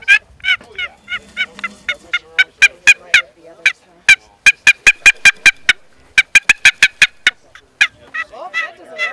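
A model 1500 wooden turkey box call, worked by hand to imitate a wild turkey, produces a long run of sharp, raspy yelps in quick rhythmic series with brief pauses, loud and close.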